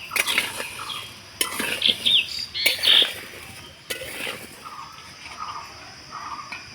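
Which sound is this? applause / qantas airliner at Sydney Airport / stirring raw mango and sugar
stirring raw mango and sugar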